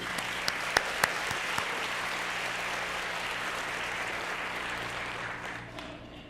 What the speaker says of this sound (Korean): 우리 하나님 앞에다 영광의 박수 올려드립니다